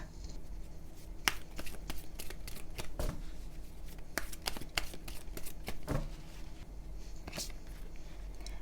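Oracle cards for a tarot reading being shuffled and handled up close, giving a string of crisp flicks and riffling slaps over a soft steady background.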